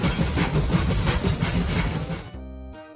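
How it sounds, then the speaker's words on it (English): A train sound effect for a toddlers' colours-and-counting lesson: a loud, steady rumbling clatter for about two seconds, then a few brief tonal hoots before it stops, with no voices. "This is a train. What sound does a train make?"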